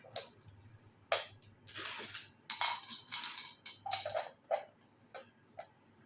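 Two soup bowls and a spoon being picked up and set down, making a series of quiet, close clinks and taps with short pauses in between.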